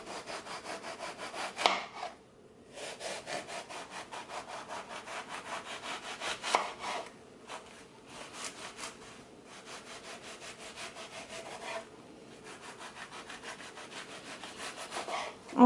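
A kitchen knife slices through an eggplant for lasagna in repeated back-and-forth sawing strokes, close and fairly quiet, with short pauses between slices.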